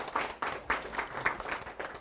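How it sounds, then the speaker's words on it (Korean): Applause from an audience at a civic forum lecture, a steady patter of many hands clapping in regular swells, moderately close and fairly soft. "다시 한번 큰 박수 부탁드리겠습니다"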